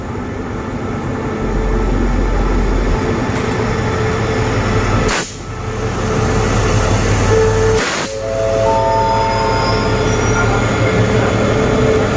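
Passenger train hauled by diesel locomotive QSY 5224 at Ratchaburi, a steady loud rumble of rolling stock close by, with two brief dips in the noise as it keeps passing.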